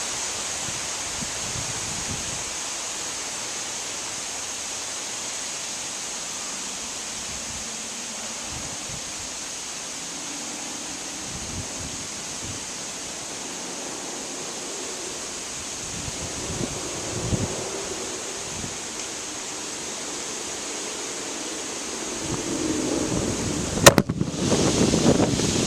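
Gusty wind buffets an outdoor camera microphone with a steady, rumbling roar that swells in low thumps, growing louder and more turbulent toward the end with a sharp knock near the finish.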